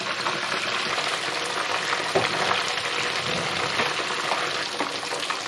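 Garlic cloves frying in hot oil give a dense, continuous sizzle and crackle, close and steady throughout with occasional pops, and no voices.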